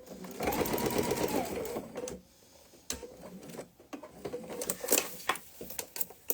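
A sewing machine stitches a backpack in a fast, even mechanical run, then stops and gives a few sparse ticks and clicks as the fabric is pivoted on the needle, with quiet talk under it.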